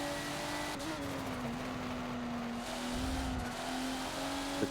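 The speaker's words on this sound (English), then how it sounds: "I'm gonna do a little wheel spin there as well." Race car engine in Forza at the Nurburgring GP, a steady, fairly loud drone that dips and climbs as the wheels spin, heard alone without talk.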